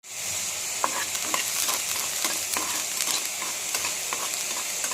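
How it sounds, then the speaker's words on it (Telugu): Coriander seeds and urad dal fry in hot oil in a pan for brinjal chutney, giving a steady, close sizzle with scattered crackles and stirring scrapes throughout. "ఇందులో కొన్ని ధనియాలు, కొన్ని మినపప్పు వేయించుకున్నాం."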